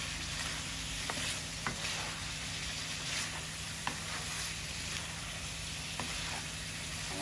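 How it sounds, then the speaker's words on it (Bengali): A fish curry with tomato and green chili is stirred in a hot pan, a continuous close sizzle and frying hiss with occasional faint scrapes and taps of the spoon, no talking. "টমেটো কাঁচামরিচ একটু লাড়া দিই"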